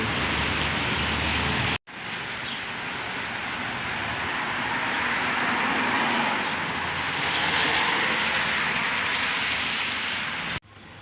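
Steady rain falls outside in Levin, New Zealand, a continuous broad hiss with the whoosh of passing cars on wet road blended in, heard alone with no talk, ending in a brief cut.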